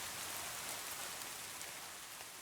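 Steady rain falls outdoors, a continuous, even hiss of drops with no pauses and no voices.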